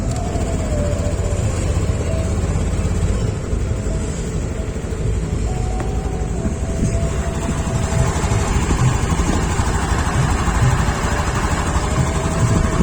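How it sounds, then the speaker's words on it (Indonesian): A Honda Beat Deluxe scooter engine idles after adjustment of the RPM setting screw, a steady close putter with constant loudness and a faint higher whine over the low rumble throughout. "Ini untuk suara stasionernya ya."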